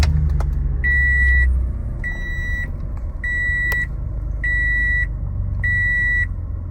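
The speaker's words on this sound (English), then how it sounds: "Let's go ahead and start up the van." A 2017 Toyota Sienna LE wheelchair-accessible van starts up and settles into a low engine rumble, while five evenly spaced electronic warning chimes sound clearly over it.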